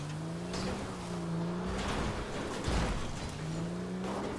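An off-road vehicle's engine drones steadily while driving in a zombie-outbreak video game, a close, continuous motor tone rising and falling slightly with gear and speed, with a brief rougher bump near the end and no speech.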